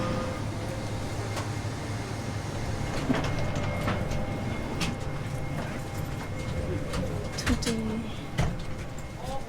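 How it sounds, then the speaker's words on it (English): Railway carriages of an overnight train clank and knock together while reattaching, amid a steady rumbling train background, with occasional sharp metallic bangs and distant birds. "our train is reattaching"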